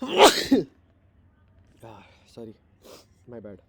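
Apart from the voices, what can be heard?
sneeze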